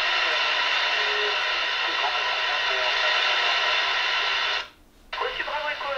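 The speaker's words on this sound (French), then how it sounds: "Petite démonstration de réception aviation" ICOM ID-52E Plus handheld radio tuned to the aviation band, giving loud, steady radio reception with a voice transmission over hiss, cut off briefly near the end before resuming.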